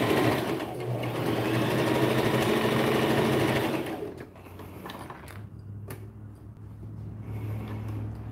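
A sewing machine backstitches a newborn romper, a close, steady buzzing hum for about four seconds, then softer intermittent stitching with light clicks and handling noises.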